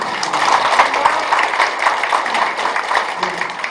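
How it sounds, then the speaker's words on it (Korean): Applause from members at a livestock cooperative's annual general meeting, a muffled, fairly distant rustle of clapping hands that stays steady throughout with no clear voices over it. "여러분들 큰 박수"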